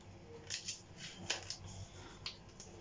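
Scissors cut paper in two while preparing a painting: a series of quiet, crisp snipping strokes in short clusters, close and soft over faint background hiss.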